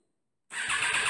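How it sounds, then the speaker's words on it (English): A stock 2007 Triumph Daytona 675 motorcycle starts after half a second of silence, its engine catching abruptly and settling into a loud, steady, close idle with a fast pulsing rhythm. "so that my future potential customers and anyone that's interested in a bike like this could actually hear what the bike sounds like"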